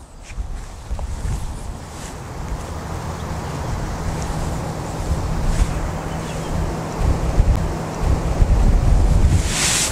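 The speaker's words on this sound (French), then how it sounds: "Il y a eu un rafale de vent qui l'a poussé à droite et il a freiné courte." Gust of wind buffeting the microphone on a golf course, a steady roaring rush that swells louder toward the end, with no talk.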